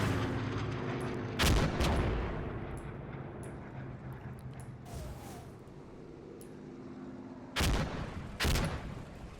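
Strafing gunfire and heavy blasts in a World War II video game battle against SS Panzer divisions, loud bursts of impacts standing out over a low rumbling background.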